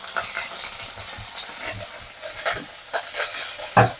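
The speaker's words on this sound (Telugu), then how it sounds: "ముందుగా అయితే కాస్తంత ఆయిల్ వేసుకోవాలి ఇట్లా పచ్చిమిరపకాయ అలాగే ఉల్లిగడ్డలు అందులోనే వెల్లుల్లిపాయలు కూడా వేసేసుకొని వేయించుకుందాం" Green chillies, onions and garlic frying in oil, giving a steady sizzle with scraping stir strokes and a sharp clink near the end.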